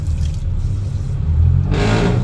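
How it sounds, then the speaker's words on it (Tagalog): A passing vehicle's engine rumbles and whirs steadily nearby, a loud continuous drone that swells toward the end as the car moves past. "Ang ingay ng sasakyan din sa akin."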